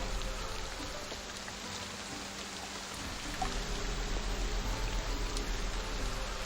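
Steady rain patters evenly as an ambient effect for a tabletop role-playing game, a continuous hiss of drops on a surface with no voices.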